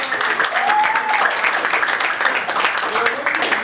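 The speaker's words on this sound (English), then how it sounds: "give a round of applause" Audience applause at a live presentation, a dense, steady wash of clapping filling the whole moment, with voices calling out over it.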